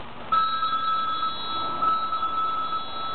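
A telephone rings in two trilling bursts of electronic bell tone separated by a short pause, close and clear with no talk.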